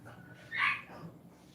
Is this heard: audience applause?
no